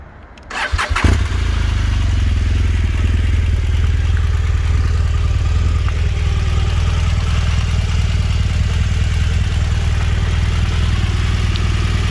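A black 2016 BMW R 1200 GS motorcycle engine cranks and fires after a second of quiet, then settles into a steady, loud, close idle that holds unchanged for the rest of the clip, with no talking.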